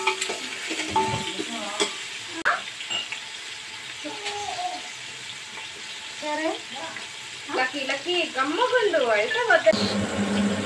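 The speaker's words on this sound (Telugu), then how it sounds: "మసాలాలు, గరం మసాలాలు, సరే ఇవన్నీ వేసుకుని వేయించుకోవాలి" Garam masala spices fry in a pan for chicken dum biryani, with soft sizzling and spoon stirring running through the whole clip under frequent speech.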